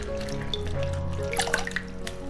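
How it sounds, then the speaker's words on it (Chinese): Red dates are rinsed by hand in water, giving brief close splashing, sloshing and dripping. "红枣也洗一下，等会去掉核。"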